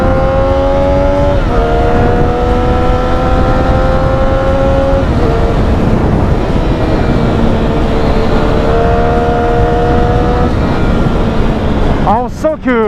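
A Triumph Street Triple, restricted for the A2 licence, pulls long and loud in first gear, its engine note climbing steadily and shifting up once or twice, close and dominating throughout.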